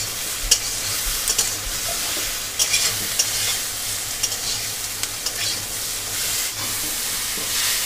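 Drumstick and potato curry with turmeric stirred in a pan, steady close sizzling and hiss with regular spatula scrapes and knocks throughout, no voices.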